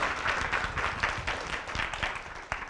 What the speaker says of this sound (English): Yeah, let's have a round of applause.